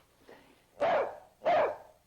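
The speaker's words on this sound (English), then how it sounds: "Well, I haven't heard Corky bark in ages." A dog gives two loud, close barks in quick succession, preceded by a faint whimper, in a quiet indoor scene from a 1952 film.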